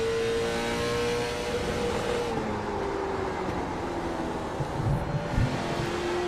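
A late model race car engine drones loudly at Stafford, pitch sliding as the driver pushes hard and roasts the tires, with a low rumble and brief thumps toward the end.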